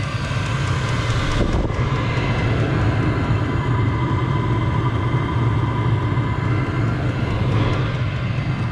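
A steady, loud, jet-like roar comes from an HCalory diesel heater with no muffler as it starts up, running close and unbroken throughout.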